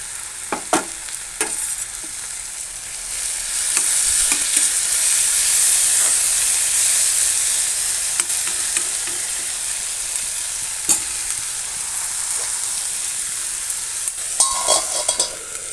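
Onions and tomatoes frying in a pan for kotthu poratta, a steady loud sizzle and hiss with scattered scrapes and knocks of stirring throughout.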